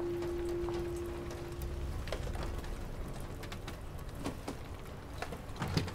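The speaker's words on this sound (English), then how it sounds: "it's still raining though" Steady rain falling in the video game Detroit: Become Human, a continuous soft patter with scattered drips and faint thuds, moderately loud and with no talking.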